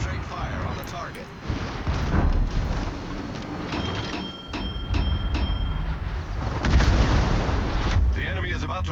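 Warship guns fire in the naval combat game World of Warships, aboard the Kleber, with heavy rumbling booms and mechanical clanks over continuous engine and sea noise, while in-game voices are heard.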